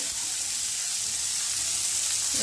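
Cauliflower fried with ginger and spices in a pan, stirred continuously, gives off a steady, even sizzle with a soft hiss throughout, close and moderately loud.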